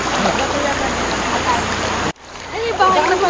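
Water splashing and gurgling as people wade through a cold river at a campsite in Tanay, continuous close splashing that briefly cuts out, with people talking over it.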